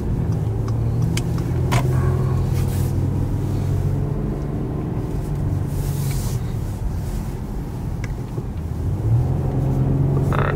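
A 2019 Acura TLX A-Spec cruises with a steady low engine and road rumble heard from inside the cabin, with faint ticks and clicks on top and no talking.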